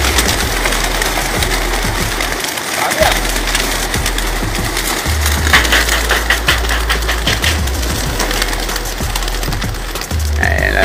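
A flock of racing pigeons bursts into flight at a club race release, wings flapping in a dense fluttering clatter over a steady low rumble.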